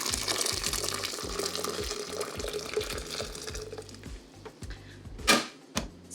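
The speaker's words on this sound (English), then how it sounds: "So now that that water is boiled, I'm going to add it to the pitcher" Boiled water poured into a plastic pitcher holding sugar, a continuous splashing pour with a rhythmic low thumping underneath, ending with a few louder sloshes and clinks near the end.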